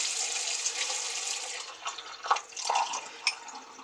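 Water spooned into a glass, heard as a string of small drips and trickles with a few brighter splashes toward the end, fairly close and moderately quiet with no talking.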